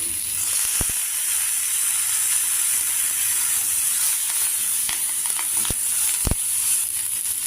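Slit green chillies and curry leaves with asafoetida sizzling in hot oil for a tempering, a steady loud close hiss with occasional sharp pops and crackles.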